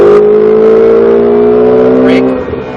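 A Ferrari 488 GTB's engine pulls hard on a track in a loud, steady tone that fades near the end, with a voice heard over it.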